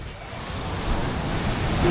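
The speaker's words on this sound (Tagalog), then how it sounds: "ang lalaki ng alon" Large ocean waves at a Boracay beach, a steady roar of surf that swells slightly louder toward the end, mixed with wind noise and no clear talk.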